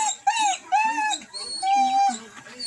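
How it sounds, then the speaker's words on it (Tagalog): A dog whines and howls in drawn-out, wavering cries, several in a row, close by and fairly loud. "Tapos, Blue Bar, yung aso namin oh."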